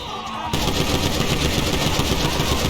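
Rapid, sustained gunfire from the GTA 5 video game with an Iron Man mod, a loud continuous burst that cuts in abruptly after a brief lead-in and keeps rattling densely to the end.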